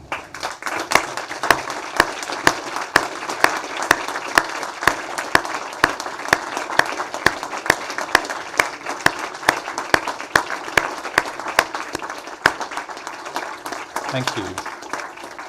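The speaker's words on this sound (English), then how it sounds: "So diplomats, please be upstanding and applaud all your supporters" Diplomates stand and applaud their supporters at a Royal College of Surgeons of England diplomates ceremony, sustained loud clapping from a large hall audience, with a brief spoken thanks near the end.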